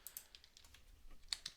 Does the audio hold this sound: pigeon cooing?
no